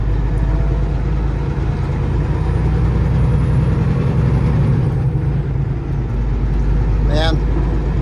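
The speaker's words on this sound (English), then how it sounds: "driving this truck" A heavy truck engine drones steadily and loudly while driving, a continuous low rumble filling the whole stretch with a brief high squeal near the end.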